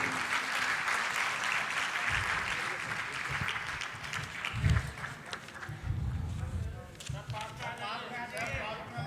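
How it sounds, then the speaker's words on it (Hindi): Applause fills the space at a religious ceremony in Ayodhya, a broad wash of clapping with a voice speaking over it and some heavier low thumps partway through. "जोरदार तालियां बजा दी जाएं"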